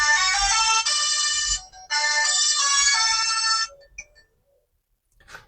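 A ringtone from an itel it2161C feature phone plays a bright, loud electronic melody in two phrases with a short break between them, then stops, leaving a faint tone and a click near the end.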